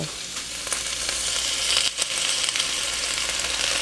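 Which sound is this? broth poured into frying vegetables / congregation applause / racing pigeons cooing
broth poured into frying vegetables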